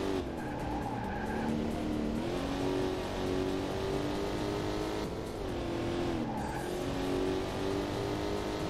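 A Corvette engine drones steadily through a PC racing game, its pitch rising and falling with the gear changes, while tire skids and squeals cut in on the corners.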